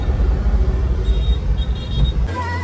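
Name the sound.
car driving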